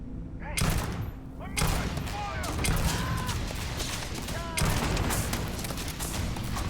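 Gunfire in the video game Starfield, repeated loud bursts of shots in clusters with a dense crackle between them, close and punchy, with a speaking voice mixed underneath.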